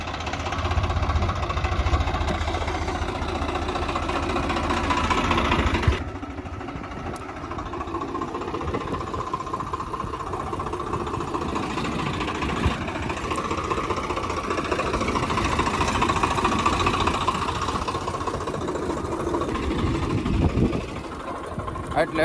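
A tractor engine idles in a field, giving a steady, continuous mid-pitched rumble that holds at an even level throughout, with faint voices in the background.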